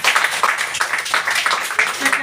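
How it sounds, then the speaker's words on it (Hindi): Indoor audience at a product training session gives a burst of brisk, steady applause with many hands clapping, loud and close for a couple of seconds. "तो इसके लिए जोरदार तालियां।"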